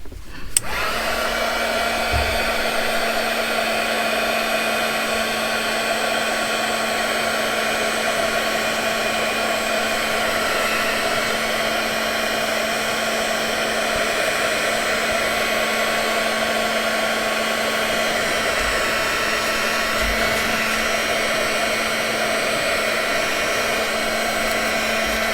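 Steady, loud hair dryer blowing continuously to dry wet paper ephemera, with a constant whine and no voices over it.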